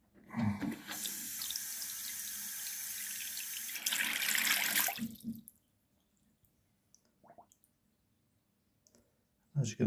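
Water gushing through a freshly unblocked sink's pipework, a loud rushing flow for about five seconds that suddenly stops, followed by near silence with faint clicks and drips.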